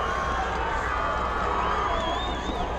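A crowd of Frederick fans cheers and roars steadily at a high school varsity football game, loud and sustained from the stands, with an announcer's voice faintly mixed in.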